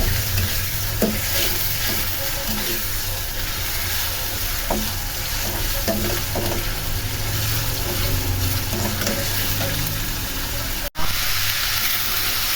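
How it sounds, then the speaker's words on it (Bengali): Onion, garlic and ginger paste fries with whole spices in hot oil, giving a loud, continuous sizzle with repeated stirring scrapes, broken by one very short gap near the end. "তারপর পেঁয়াজ, রসুন, আদা বাটা দিয়ে ভেজে নেব ভালোভাবে।"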